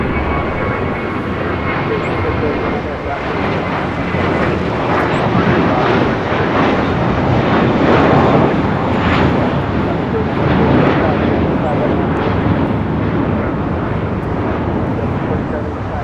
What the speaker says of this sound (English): This magic moment taking off to Miami. JetBlue 2785. It's an 8-year-old A321.